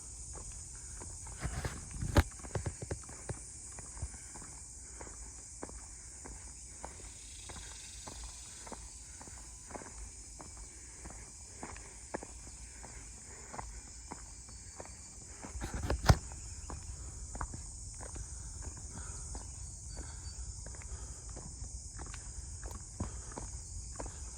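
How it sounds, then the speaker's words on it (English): Steady high-pitched cicada buzzing drones continuously in the background on a canyon trail in New Braunfels, Texas, with scattered footsteps and faint rustling nearby, and a brief sharp knock partway through. "Oh, you hear the cicadas."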